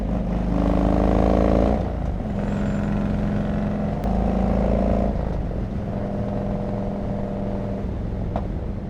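A Harley-Davidson Road King Classic with fishtail exhaust pipes rumbles nearby, holding a steady, throaty idle with a couple of mild rises in revs. No voices are heard.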